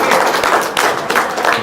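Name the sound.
applause, clapping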